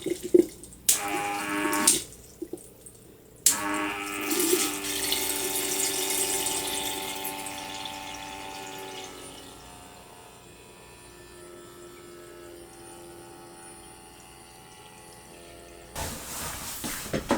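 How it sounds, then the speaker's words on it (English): Tap water pours into a one-gallon planted bowl, with a few short bursts and splashes at first, then a long steady gurgling stream that softens and tapers before a brief final splash; no talking. "Time to fill this bowl up."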